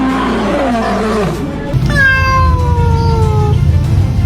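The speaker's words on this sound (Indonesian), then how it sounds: "Ya, begitulah auman singa apabila dibandingkan dengan kucing." A house cat meows first, followed by a lion's roar set against it, each a single call: the meow brief and rising, the roar longer, louder and sweeping downward, both close and clear.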